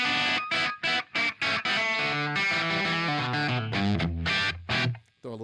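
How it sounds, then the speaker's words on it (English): Electric guitar through a gain channel with a Barber Direct Drive overdrive pedal stacked on top, played as crunchy, distorted chords and short phrases with clear gaps between strums. "I'll throw the Barber direct drive on top of it."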